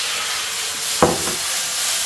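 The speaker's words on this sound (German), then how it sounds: "Das tun wir ablöschen." A hot pan is deglazed in a salmon-and-asparagus cooking session, and a broad, steady steam hiss fills the clip with a brief sharp sizzle burst midway.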